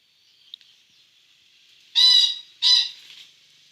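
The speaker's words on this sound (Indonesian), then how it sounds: "itu ayam yang sana itu mengundang kita" An ornamental chicken in a backyard coop gives two loud, close squawking calls in quick succession after a faint chirp, with quiet in between.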